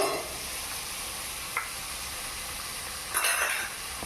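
Spices fry in a pan for pea ghugni, a constant bright sizzle with a few short scraping stirs, close and steady.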